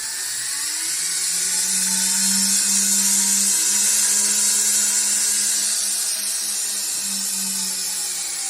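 Small motors on a remote-controlled drone spin up, giving a steady high electric whine and buzzing hum close by that holds for several seconds with slight shifts in pitch.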